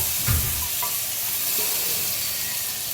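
Banana flower vegetable being sautéed in a pan in a home kitchen, giving a steady close sizzle and frying hiss with a brief stirring scrape near the start.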